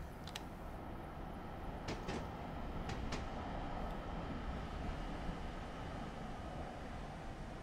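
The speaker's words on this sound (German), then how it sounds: "fährt unser Zug mit 30 Meilen über diese wunderschöne Brücke." A passenger train on the North Jersey Coast Line in Train Simulator 2017 rolls along with a steady, loud rumble of wheels on rail, with a few sharp clicks and squeals rising above it.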